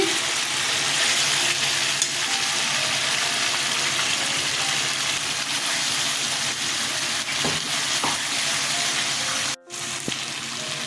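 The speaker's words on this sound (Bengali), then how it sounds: "একটু কষাবো ভালো করে পেঁয়াজ কাজু কিশমিশ ভেজে পেস্ট করা দিয়ে দিচ্ছি" A masala with a paste of fried onion, cashew and raisin fries loudly and close in a pan, a dense rain-like sizzle running the whole time with one brief break near the end.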